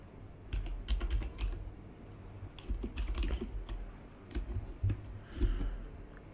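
Rapid bursts of computer keyboard typing while a search is entered, close and fairly quiet, with irregular clusters of key clicks and short pauses, no voices.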